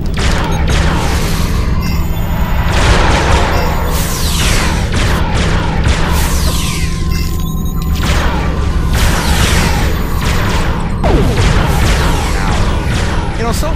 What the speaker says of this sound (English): Bring the torpedo to explode.